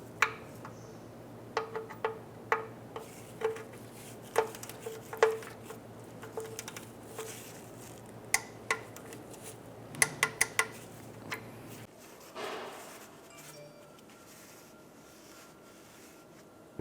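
A torque wrench tightens the oil drain plug on a 2011-2016 Hyundai Elantra, giving a series of sharp metallic ticks and clicks at close range, then falling quiet.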